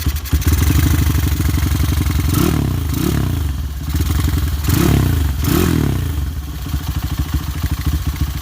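A Honda Tiger motorcycle fitted with a PWK carburetor and an unfinished exhaust rumbles loudly up close, its engine revved in several quick pulses over a rough, throbbing idle.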